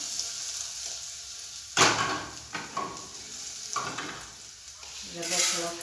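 Garlic frying and sizzling in a pan while rice is cooked, with bursts of stirring and spoon scraping over a steady close sizzle.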